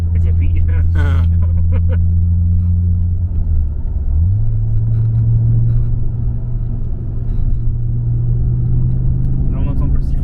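An Audi S2 turbo whistles faintly over a steady, loud engine drone while driving from inside the car, with a brief dip as the driver eases off the pedal. People talk over it.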